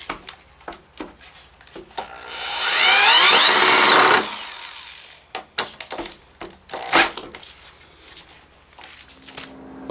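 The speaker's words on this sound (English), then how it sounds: "So let's get screwing those on." A power drill drives screws into a cedar shake drying rack, one loud whirring burst of about two seconds, then clunks, taps and handling knocks of the wood nearby.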